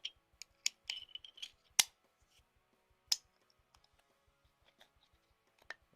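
Scissors snip close by in a quiet room, several sharp clicks and cuts in quick succession, then a few scattered softer snips, near a Sigelei Mini 30W vaping device.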